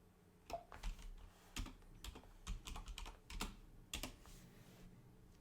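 A sudo command is typed on a computer keyboard in quiet, irregular clusters of close key clicks with short pauses between them, fairly faint and without speech.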